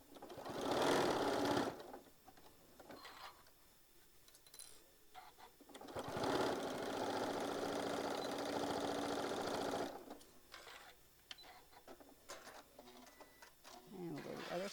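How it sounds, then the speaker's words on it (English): A sewing machine stitches the box corners of a tote bag at a quarter-inch seam, running in loud bursts of steady whirring separated by pauses. A voice talks during the gaps between runs. "Get them all sewed up at the same time."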